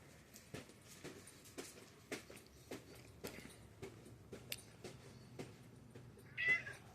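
A cat gives one faint meow near the end, set against quiet, irregular clicking and tapping in an otherwise hushed space.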